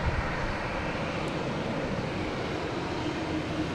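An Airbus A330 airliner's jet engines roar at Boston Logan Airport in a steady, broad rumble that holds at an even level throughout, distant rather than close.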